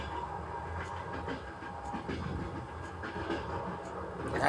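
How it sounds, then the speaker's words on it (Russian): A passenger train rolls along with a steady, rumbling clatter of wheels on rails, heard from inside a carriage as a continuous, fairly even noise with faint rhythmic knocks. "Стук колес."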